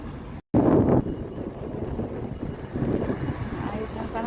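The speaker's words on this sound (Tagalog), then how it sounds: "Pero mahangin siya." Steady wind rushing past the microphone, a low continuous roar with gusts swelling midway, broken by a brief dropout near the start.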